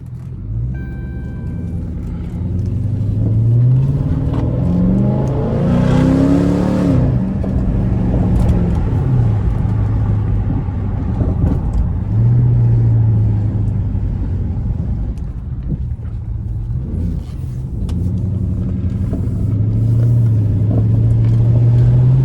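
A straight-piped Chrysler 300S with a Hemi V8 revs hard at night while driving in Mexico, its deep exhaust rumble rising and falling through repeated throttle blips and gear changes, loud and close from inside the car.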